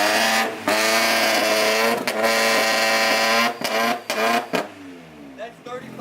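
An EG hatchback fitted with a custom dual exhaust revs up close and loud, holding a steady raspy drone broken by brief drops and throttle blips before easing off, with people talking nearby.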